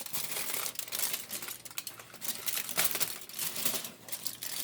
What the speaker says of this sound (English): you can see we lined our pan with aluminum foil